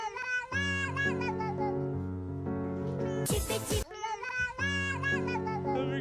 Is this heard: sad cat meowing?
yes